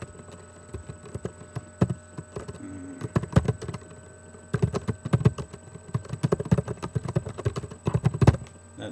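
Rapid clatter of a computer keyboard being typed on, in close bursts of keystrokes with a brief pause near the middle, fairly quiet and with no speech.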